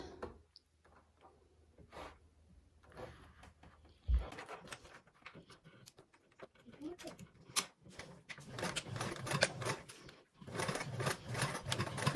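A home sewing machine runs in quick bursts while top stitching through a webbing strap, its rapid needle clatter building louder toward the end, with soft handling noises between runs.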